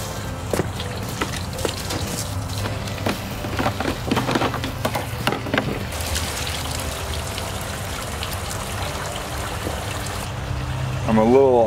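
Water pours into a Chapin 25-gallon 12-volt tow-behind sprayer tank, a steady splashing rush with occasional knocks and clatter, continuing unbroken for about twelve seconds outdoors.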